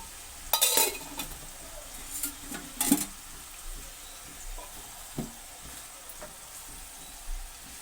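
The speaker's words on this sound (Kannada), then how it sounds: "ಎಣ್ಣೆ ಹಾಕಿದ್ದೀನಿ, ಈರುಳ್ಳಿನೂ ಹಾಕಿ ಕುಂಬಳಕಾಯಿನೂ ಹಾಕಿ ಮಾಡಿದ್ದೀನಿ." Pumpkin and onion frying in oil as they are stirred, with a soft steady sizzle under a few sharp scraping clinks of the spoon early on, then quieter stirring.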